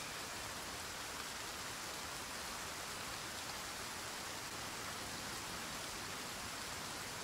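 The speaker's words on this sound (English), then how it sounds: "get out of the rain for a bit." Steady rain falls in the DayZ video game, a constant dense hiss of drops with no breaks or talk, even and unchanging throughout.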